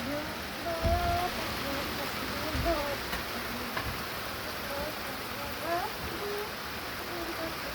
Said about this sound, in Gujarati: જો આજે વરસાદ ચાલુ થઈ ગયો